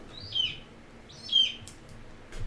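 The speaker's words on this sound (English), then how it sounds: "Random bird." Two short bird chirps sound at moderate distance over a quiet background, spaced about a second apart, followed by a faint brief rustle at the end.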